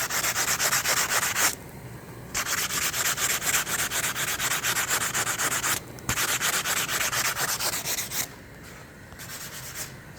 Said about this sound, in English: So that's a lot of sanding,